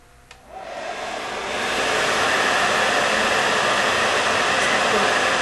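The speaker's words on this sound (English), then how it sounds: "I'm going to put the blow dryer on to demonstrate to you how to do this." A hair dryer blow-drying natural hair switches on and roars steadily, its loud whooshing hum building quickly and then holding constant.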